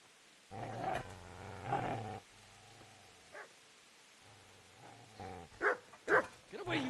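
A dog in Kingdom Come: Deliverance gives a few low barks and growls in short bursts. Someone shouts over it, and rough noises follow near the end.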